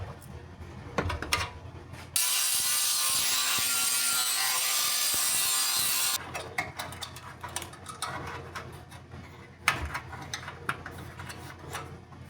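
A blade cuts through a piece of scrap sheet metal for a 1984 AE86 coupe quarter panel, a loud, harsh continuous rasp lasting about four seconds, surrounded by quieter shop clatter and handling noises.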